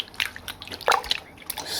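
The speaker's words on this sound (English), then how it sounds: "I'm just going to run them in water because they are dusty" Vintage 1990s mermaid dolls are rinsed under running water, with close, brief splashes and drips in irregular bursts.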